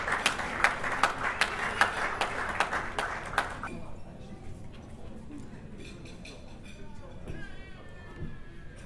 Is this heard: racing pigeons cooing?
no